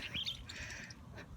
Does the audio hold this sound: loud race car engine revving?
no